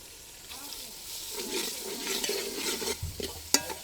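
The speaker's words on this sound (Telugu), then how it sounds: "మంచి ఎర్రగా ఫ్రై చేసుకుందాము" Sliced onions frying in a pan with salt and turmeric for village-style mutton biryani, sizzling steadily at close range while a spoon stirs through them, with scraping bursts and a sharp clink near the end.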